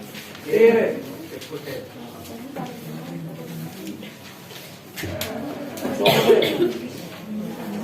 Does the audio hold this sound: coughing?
yes